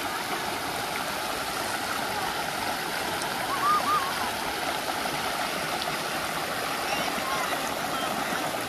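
Steady broadband rush of flowing water, like a stream running close by, continuous and even throughout.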